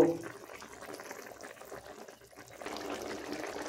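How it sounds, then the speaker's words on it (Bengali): Water is poured into a banana kofta curry in a pan, a soft steady splashing rush that swells slightly toward the end, fairly faint and close. "এখানে দিয়ে দিচ্ছি পরিমাণ মতো জল"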